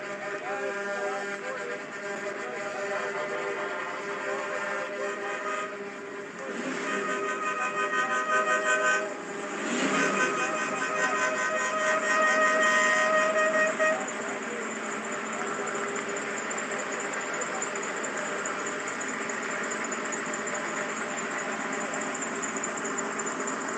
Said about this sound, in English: That sounds like a badass engine over there.